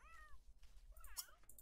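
A cat in The Sims 3 gives two short meows, one at the start and one rising near the middle, close and clear over a quiet low background hum.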